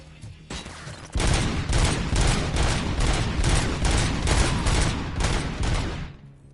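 Auto 9 pistol set to three-round bursts in Robocop: Rogue City, producing a loud, steady string of evenly spaced rapid shots over about five seconds under a constant battle roar.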